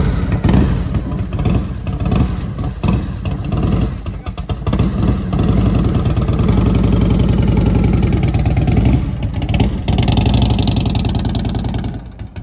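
An old Harley motorcycle engine runs continuously nearby with a low, throbbing mid-pitched rumble and slight revving variations, steady and loud throughout.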